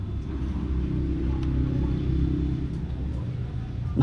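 A motorcycle engine on its stock map revs up toward its 9,500 RPM limit while the bike sits on its center stand, producing a steady, loud, low droning roar that holds for the whole stretch with no talk.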